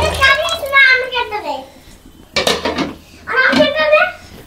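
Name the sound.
scrubbing and washing dishes, pots and pans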